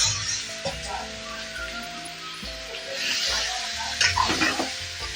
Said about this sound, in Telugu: ఇప్పుడు మనము మటన్ వేసేసుకుందాము. మొత్తం వేసుకొని బాగా మిక్స్ చేసుకోవాలి.